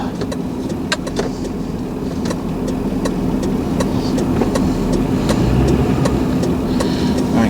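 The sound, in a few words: 2006 Lincoln Town Car Signature Limited driving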